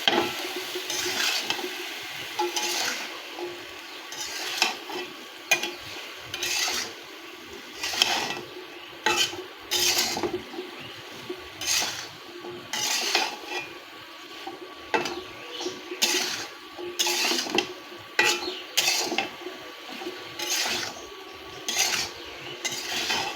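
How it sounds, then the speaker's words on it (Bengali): Taro flowers being mixed with other ingredients in a bowl for a mashed taro-flower dish, heard as repeated scraping and clinking of a utensil against the bowl in an irregular rhythm, close and fairly quiet with no talking. "মিশিয়ে নেব সব কিছু একসঙ্গে ভালোভাবে"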